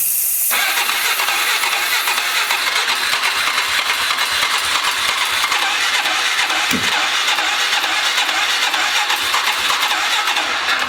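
A 2003 Polaris 500 ATV whose oil is spraying into the air filter box starts up and settles into a loud, steady running drone that goes on alone from end to end.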